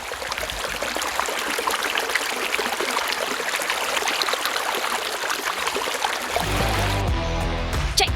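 Steady running water, close and fairly loud, recorded as an ASMR test on a Lensgo LYM-DMM1 microphone. A constant trickling stream rushes without a break, and its tone turns lower and fuller near the end.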